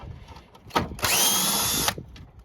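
A power drill removing a 10 mm bolt from a Cadillac CTS headlight assembly, with a brief whir followed by a longer steady high-pitched spin, close and loud.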